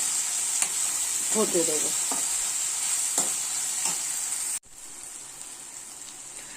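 Hog plum and taro stolons fry in oil with turmeric and salt, giving a bright, steady close-up sizzle with spatula taps. A short spoken phrase passes over it before the frying hiss drops to a quieter level.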